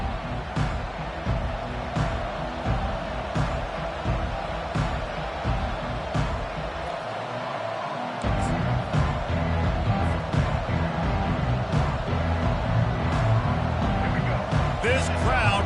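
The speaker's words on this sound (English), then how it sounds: "This crowd bringing an ear-splitting welcome to their visitors" A stadium crowd at a Clemson college football game roars in a steady, loud wash of cheering around kickoff, growing even stronger midway, with a commentator talking over it.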